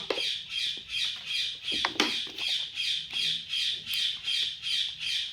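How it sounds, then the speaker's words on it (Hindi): A pet bird kept indoors squawks in a room, giving a long series of harsh, evenly spaced calls at a steady rhythm, moderately loud and close, with no talking. "थोड़ा सा मेरे यहाँ जो है ना चिड़िया पाला गया है"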